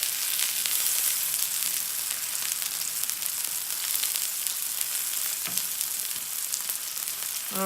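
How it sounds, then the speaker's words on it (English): A steak sears in hot olive oil in a pan, giving a continuous loud crackling sizzle with fine spattering pops and no talking. "we're going to wait for this steak to get a real nice sear on that one side"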